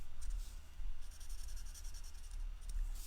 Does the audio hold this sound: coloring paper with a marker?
yes